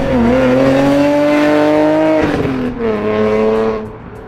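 BMW E46 M3 fitted with an Agency Power exhaust and catless headers runs with a loud, smooth inline engine note, holding steady revs, briefly dropping, then climbing again, close and alone.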